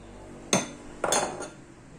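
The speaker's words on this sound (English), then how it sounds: "Add the ice cube." Ice cubes drop into a honey superfruit milkshake mixture, two sharp clattering knocks about half a second apart, the second a louder jumbled clink that rings briefly, close and with no talking.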